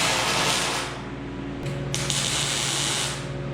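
Miller MIG welder tack welding 14 gauge steel for a workbench frame, a steady loud hissing crackle running throughout with a brief break in the middle before the arc resumes.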